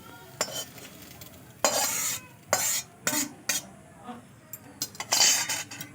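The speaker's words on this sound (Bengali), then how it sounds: "এতে এবারে আমি ডিমগুলো ঢেলে দেবো কুচি করে রাখা ডিমগুলো দিয়ে দেবো" Beaten eggs are poured into a pan with finely chopped tomato and vegetables, with bursts of scraping, stirring and clinking from a utensil against the pan over a faint sizzle, coming in irregular loud strokes separated by short pauses.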